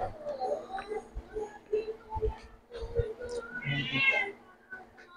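Several cats meow insistently around people eating, plaintive mid-pitched cries repeating close by, with a longer, louder meow near the end and a faint hum underneath.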